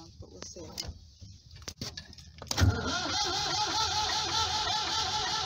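A few clicks and clunks, then a car engine, jump-started from a leisure battery via jump leads, cranks and turns over with a steady rumbling whir, loud and close.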